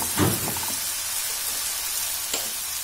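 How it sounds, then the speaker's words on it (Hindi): A single sharp sizzle and spatter as hot oil tempering is poured onto moong dal khichdi, dying down quickly into a soft steady hiss, with a faint second crackle near the end. "तो अब ये तड़का हम खिचड़ी में ऊपर से डाल देंगे।"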